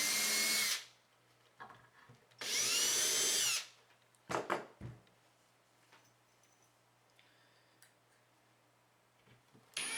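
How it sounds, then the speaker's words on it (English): Two long bursts of a power drill boring into wood, separated by a pause, followed by a few short clunks and quiet handling noise. "I gotta drill that out."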